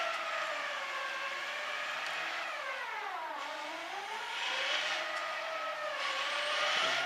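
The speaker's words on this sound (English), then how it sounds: "Oh my god, his tires are smoking." A car does a burnout on a road, its tires spinning and smoking, and the engine holds a continuous high whine that sweeps up and down in pitch. No voices are heard.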